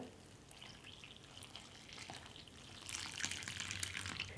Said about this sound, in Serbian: Dodat ću 320 ml vruće vode.